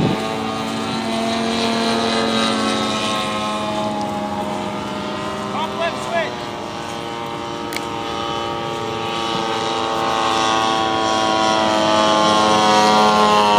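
A radio-controlled Yak 54 model airplane flies at an RC airshow, its engine giving a steady, loud drone with shifting pitch, and spectators talk at times.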